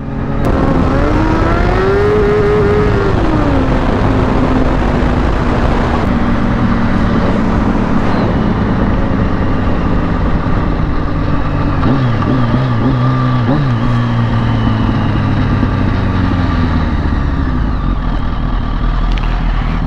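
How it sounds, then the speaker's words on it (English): Kawasaki Ninja ZX10R motorcycle engine with a slipping clutch, loud and continuous, revving up and down with rising and falling pitch over a steady roar, no talking. "So I'll play a clip of what it sounds like when your clutch is slipping"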